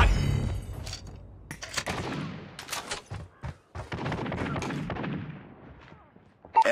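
Call of Duty Mobile gunfire: a string of sharp, close shots and short bursts, some echoing off, spread across a few seconds with brief gaps and a loud final pair of reports.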